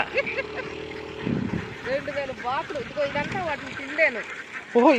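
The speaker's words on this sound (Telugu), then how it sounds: "ఇక్కడ చూడండి ఎన్ని బాతులు ఉన్నాయో" Many ducks on a farm holding about two thousand birds, quacking in overlapping bursts that swell loud near the end, heard close and under continuous talk from people nearby.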